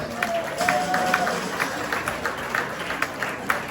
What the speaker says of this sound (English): So would you give yourselves a round of applause for that?